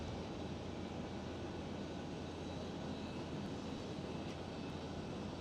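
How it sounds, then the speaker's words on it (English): Emirates SkyCargo Boeing 777 freighter at Amsterdam Schiphol, an even, distant jet rumble sustained throughout at low level with no breaks. "the Emirates Sky Cargo. It's a 777 freighter."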